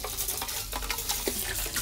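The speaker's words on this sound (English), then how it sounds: "Rinse it off with water." Tap water runs and splashes as hair is rinsed, a close, steady gush with small irregular splatters.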